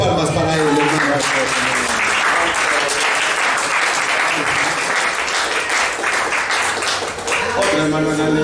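Loud, close applause from a church congregation, many hands clapping in a dense continuous roar that holds for several seconds before easing slightly near the end.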